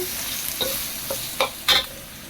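Bagoong alamang with santol frying in a pan, soft sizzling beneath a few sharp scrapes and clatters of a stirring utensil against the pan.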